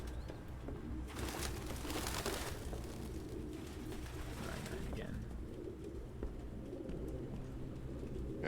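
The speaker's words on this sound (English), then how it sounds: "whenever the pigeons fly away" Pigeons coo and a burst of wings flaps as birds take off in the game Detroit: Become Human, under a steady low background hum with a faint voice nearby.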